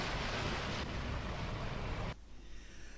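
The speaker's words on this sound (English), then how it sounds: "The Saucepan Dow is a trailer suction dredger designed with a shallow draft so that it can work in coastal waters." A trailer suction dredger works in coastal waters off Hayling Island, heard as loud broadband rushing of water and wind that cuts to a quieter low rumble near the end.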